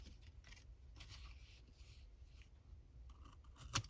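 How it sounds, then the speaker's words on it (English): Scissors snip away stray paper pieces from a vintage airline-themed junk journal envelope, a soft steady rustle of cutting close by with one sharper snip near the end. "I am just going to cut these away."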